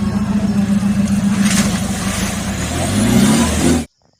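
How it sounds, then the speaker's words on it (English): An old-model Mahindra Thar jeep engine drones steadily and loudly close by as it passes, its note rising slightly near the end before cutting off abruptly. "this is a old model Mahindra Thar"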